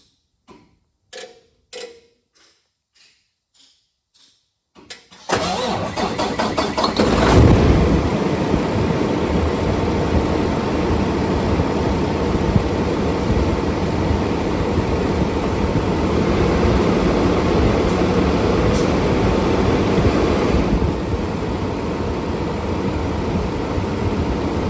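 A Paccar truck engine with high coolant pressure is cranked, first several separate clicks with pauses, then it fires and settles into a loud, steady diesel idle that runs on close by, with no voices.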